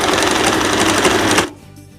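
A sewing machine stitching elastic onto a dress runs in a fast, steady, loud whir for about a second and a half, then stops abruptly, leaving quiet.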